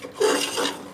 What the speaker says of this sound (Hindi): अब इसमें आलू शामिल करेंगे। इसे भी 1-2 बार हिला के